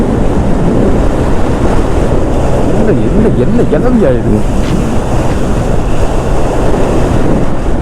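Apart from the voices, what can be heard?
strong gusty wind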